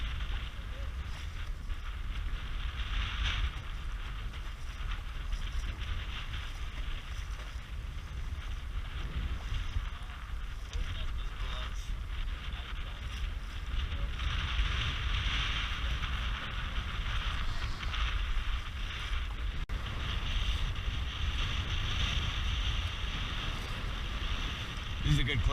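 Steady wind roars and buffets the microphone aboard a small sailboat on Saranac Lake on a windy day, with water noise underneath and no clear break.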